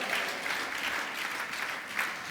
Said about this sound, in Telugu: చప్పట్లు కొట్టి ప్రభువుని మహింపరచండి.